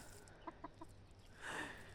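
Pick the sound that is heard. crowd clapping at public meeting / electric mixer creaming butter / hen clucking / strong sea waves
hen clucking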